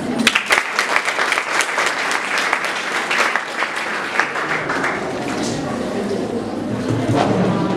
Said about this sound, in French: Veuillez applaudir M. Hakim.